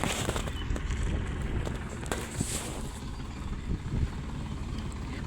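A farm tractor's diesel engine runs with a loud, steady rumbling drone close by, with knocks and rattles over it, in a field where gram is being cleaned.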